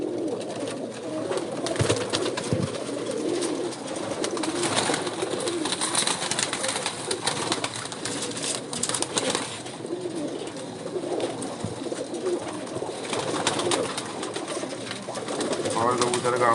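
Rooftop loft pigeons coo continuously in a dense, rolling chorus close at hand, with someone speaking over the birds throughout.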